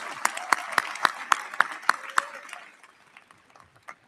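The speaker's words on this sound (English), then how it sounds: "Obviously, it does deserve an applause." Audience at the Oregon Institute of Technology 2018 commencement ceremony breaks into brief applause, a burst of claps with a few sharp louder ones that fades out by about two and a half seconds, leaving a quiet hall.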